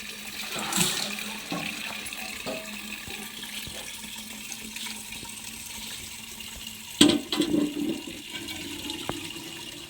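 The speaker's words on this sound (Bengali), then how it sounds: "মা খুব ব্যস্ত, জল ভরছে বাথরুমের মধ্যে।" Water runs into a container in a home bathroom, a low, steady trickle with occasional clunks and splashes, growing busier briefly near the end.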